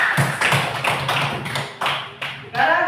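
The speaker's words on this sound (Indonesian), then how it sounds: "Nah, oke, tepuk tangan." Students in a classroom clap their hands in a loud, rhythmic round of repeated claps. The clapping thins out near the end, and a voice comes in briefly.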